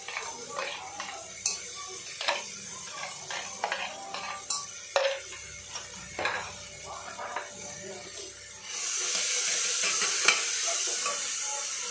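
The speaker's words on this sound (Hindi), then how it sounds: "लो जी, ऑयल अपना गर्म हो चुका, आप हिंग ऐड करती, जीरा पाता, उस तो बाद सारा पेस्ट पा देना।" Asafoetida, cumin seeds and a ginger and green chili paste hit hot oil in a pan, giving a steady close sizzle broken by sharp clacks of a spoon stirring against the pot, rising to a louder hiss near the end.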